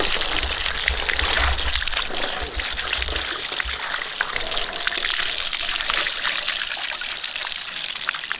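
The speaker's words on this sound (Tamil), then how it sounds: "நல்ல சுத்தமா கழுவி எடுத்துக்கணுமுக்கா." Water gushes and splashes steadily and up close as a large giant trevally fish head is rinsed clean, a continuous running wash with no pauses and no one talking.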